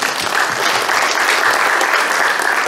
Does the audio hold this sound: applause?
yes